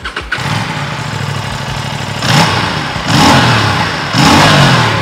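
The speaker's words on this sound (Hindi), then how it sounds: "अपन ने एग्जॉस्ट नोट नहीं सुना है, तो चलो पहले इसको आपको RS457 का एग्जॉस्ट नोट सुना लेते हैं" Aprilia RS 457 twin-cylinder motorcycle starting up, then its exhaust revved in three sharp, loud bursts that settle back toward idle between each blip, heard close with no talking.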